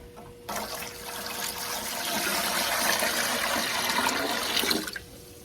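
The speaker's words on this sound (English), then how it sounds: "All right, so we're gonna pour the water in." Water pours in a steady, rushing stream into an All American 930 canner pot for processing bone broth, starting abruptly, building slightly and then cutting off, with no talk over it.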